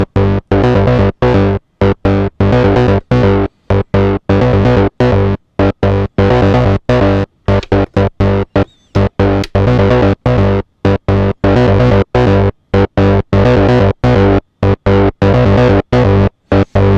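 A Bass Station II synthesizer plays a looping acid bassline through a resonant filter, with gated, chopped notes in a fast rhythmic sequence, loud and distorted, alone with no voices.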